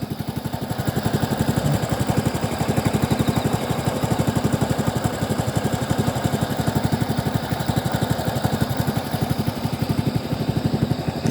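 A rice planting machine's engine runs steadily in a Korean paddy field, a close, continuous rapid chugging drone that holds an even level throughout with no talk.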